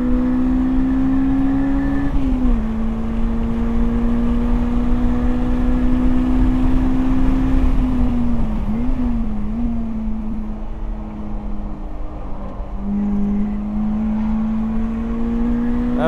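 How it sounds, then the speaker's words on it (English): A tuned Lotus Elise engine drones steadily at high revs throughout a lap of Buttonwillow Raceway, pitch dipping and rising with gear changes and braking, loud and continuous. "Here is one lap with the tuned Lotus ripping around Buttonwillow Raceway."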